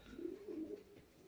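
Young pigeons or doves coo inside a breeding box, a few soft, low, rounded calls close by in a quiet room with no talking.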